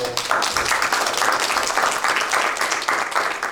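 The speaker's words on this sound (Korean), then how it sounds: "환영의 박수로" A church congregation at a Sunday service breaks into warm, continuous applause for visiting guests, many hands clapping together steadily for a few seconds.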